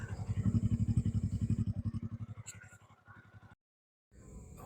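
A Suzuki Shogun 125 SP motorcycle engine idles near and steady with a low, even putter that slowly fades, cuts out briefly, then resumes.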